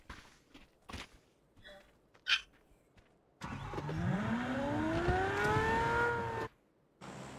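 A Lamborghini in a racing video game revs hard after a few soft clicks, its engine climbing in pitch for about three seconds, loud and close, then cutting off abruptly.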